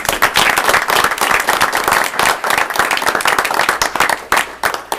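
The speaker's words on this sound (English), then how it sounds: "Let's just give one and two a big round of applause." A board meeting audience breaks into sustained, dense applause, many hands clapping loudly and steadily for the full stretch with no talking over it.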